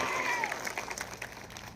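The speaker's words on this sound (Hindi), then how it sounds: "जोरदार तालियां बजाकर अभिवादन करो" A crowd at a Congress party political rally in Dahod applauds loudly, a dense wash of clapping with a few sharper claps, heard from a distance with crowd noise and a faint voice mixed in.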